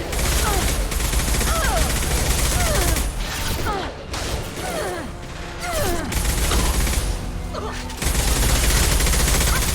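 Sustained gunfire in the Mass Effect 2 video game: dense rapid bursts and crackling shots fill the whole stretch, and game voices call out over the battle noise.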